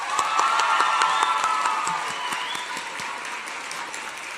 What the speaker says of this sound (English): Round of applause for Ken.